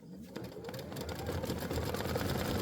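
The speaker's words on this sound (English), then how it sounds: "I love sewing on my Avenir. And we're just going to go ahead and top stitch." An Avenir sewing machine runs while top stitching: a quiet, steady rapid mechanical whir that builds slightly and continues throughout.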